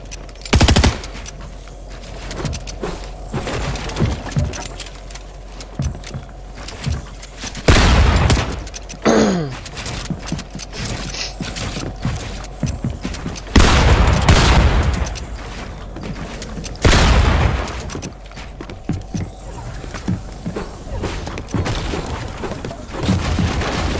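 Rapid bursts of automatic gunfire and booming shots ring out in a Fortnite Zone Wars match, with loud volleys repeating at intervals over a steady background of game noise.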